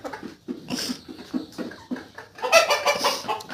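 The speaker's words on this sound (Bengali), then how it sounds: "আপনারা দেখতে পাচ্ছেন আমাদের ব্ল্যাক অস্ট্রেলপ মুরগিগুলো" Black Australorp hens about two years old clucking in a farm setting, a steady series of close, loud clucks and calls that swell into a busier burst near the end, with no talking.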